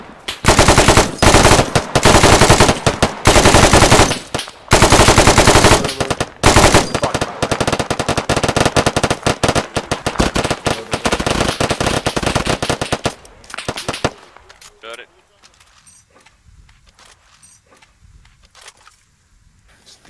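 Sustained automatic gunfire in the ArmA 3 military simulation game, loud and dense bursts of rifle and machine-gun fire for about fourteen seconds before dropping to scattered distant shots and quieter background sounds.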